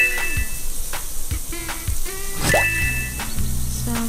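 Splashy, squishy watering sounds from the Talking Tom mobile game as plants are sprinkled, with short drips and plops followed by bright chiming game tones, all fairly close and continuous without speech.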